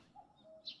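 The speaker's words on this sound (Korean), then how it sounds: "새들이 주는 선물이죠. 새소리" Birds chirping in a garden, a few faint, brief tweets scattered over a quiet background.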